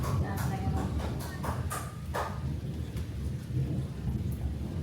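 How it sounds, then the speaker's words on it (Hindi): Heavy rain pours steadily during a storm, with a low rolling rumble of thunder and scattered sharp drip and clatter sounds close by; a voice talks faintly over it. "अभी देखिए कितनी अच्छी बारिश आ रही है।"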